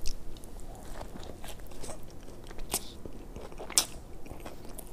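Biting and chewing into a Wendy's chicken burger loaded with mayo, tomato, lettuce and onion, close up, with soft crunchy mouth sounds and a couple of sharper bites standing out, no talking.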